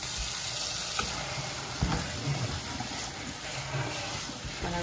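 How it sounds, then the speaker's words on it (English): A kitchen tap runs into a sink while ground meat for chili is rinsed, giving a steady close rush of water with small splashes and clatters. "I'm gonna rinse that off."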